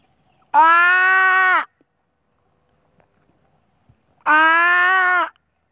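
A voice imitates an elephant's trumpet for a children's story, two loud, sustained, strongly harmonic blasts of about a second each with a quiet pause between them.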